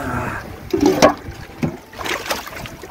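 Water splashed and tossed out of a small boat on a large river in a few irregular scoops and dribbles, close and moderately loud, with no talk.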